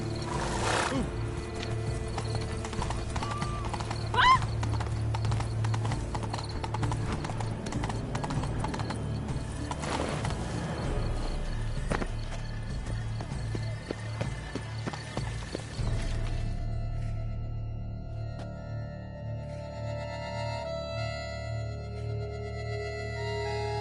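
A horse gallops in The Witcher 3 video game, hooves pounding in a fast, steady clip-clop rhythm under game music, with a brief whinny and other game sounds mixed in.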